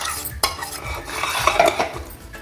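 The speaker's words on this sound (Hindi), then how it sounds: "अब डाल देंगे ड्राई फ्रूट्स वाला पेस्ट" A spoon scrapes and clinks in a pan of boiling milk as a dry fruit paste is stirred in while making rabdi kulfi, with close, loud, irregular stirring and no talk.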